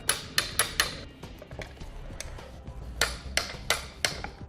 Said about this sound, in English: Now we can tighten and torque these 2 bolts to the amount specified in the instructions.